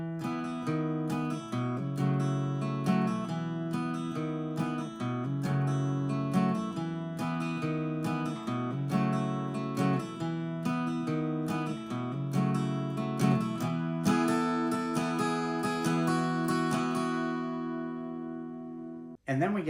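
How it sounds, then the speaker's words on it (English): Guitar plays the interlude of a song as steady strummed chords with rhythmic string attacks, close and alone, ringing out at the end before a brief cutoff. "So if we were to play the interlude after that 2nd chorus, it would sound like this."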